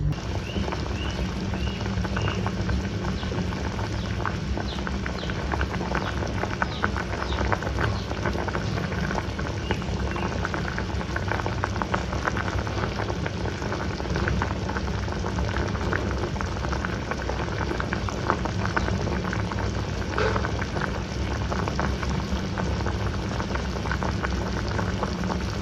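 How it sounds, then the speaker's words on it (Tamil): Garlic tamarind curry, puli kulambu, boils in a pot with a dense, steady bubbling and popping that carries on evenly with no voices. "குழம்பு நல்லா கொதிச்சிருச்சு."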